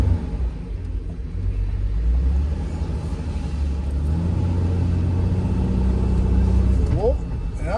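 A 1984 Ford Bronco II with a 5-speed manual drives along, its engine rumbling steadily with rising and falling pitch as it pulls, loud and close from inside the cab, with a voice talking over it.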